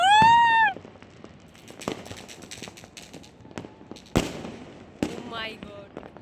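Scattered New Year fireworks and firecrackers burst one after another, sharp isolated cracks and pops at irregular intervals, with a whistling rocket at the start and another rising whistle near the end.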